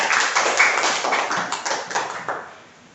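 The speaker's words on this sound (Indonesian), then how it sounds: "Tepuk tangan dulu untuk Aurel" Classroom of students clapping for a classmate, a dense patter of many hands in a small room, steady for most of the stretch before tapering off near the end.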